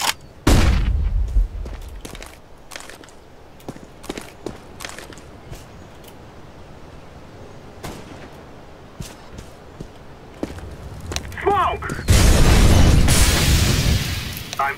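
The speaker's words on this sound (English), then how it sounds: "I'm throwing a flashbang." A flashbang grenade goes off in a shooter video game: scattered footsteps, clicks and distant shots lead to a loud, sustained burst of noise near the end, close and dominant.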